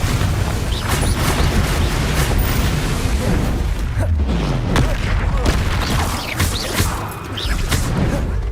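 The Confringo fire-blast spell in Hogwarts Legacy goes off amid repeated booming spell impacts and sharp bursts, loud and busy throughout, with a few brief dips between hits.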